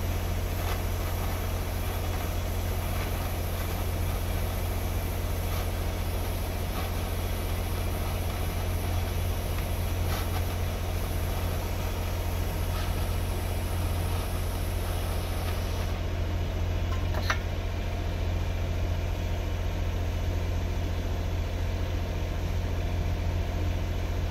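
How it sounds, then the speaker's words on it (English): A gas torch burns steadily while heat-sealing the ends of old rope, giving a continuous close roaring hiss over a low hum for the whole stretch, with no voices. "Turn on the torch."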